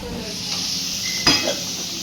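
Paneer frying in oil in a pan gives a steady broadband sizzle with a brief stir or scrape of the pan near the middle, close and even.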